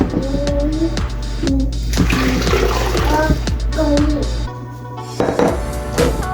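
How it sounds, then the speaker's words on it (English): Honeydew and watermelon juice splashes as it is poured through cheesecloth for straining, a steady liquid pour with intermittent splatters close by, while a person talks over it. "I think I'm just gonna pour everything through here."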